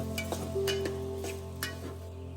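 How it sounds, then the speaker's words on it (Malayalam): Onions sautéing with salt and curry leaves in a pan: a steady sizzle runs throughout, with a few soft stirring scrapes, close and moderately loud, and no voices. "ഇത് വഴണ്ട് വരട്ടെ."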